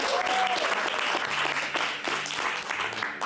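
Church congregation at a multi-ethnic community gathering cheers and applauds, a dense, steady wash of clapping with whoops and shouts throughout, fairly close and filling the room for several seconds.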